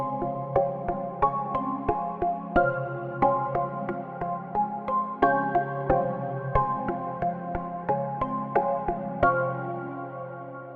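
A recorded Hydra synthesizer part plays back as an audio file in Logic, a repeating pattern of bright plucked chord notes over a low sustained bass, moderately loud and evenly pulsed throughout, with no voices.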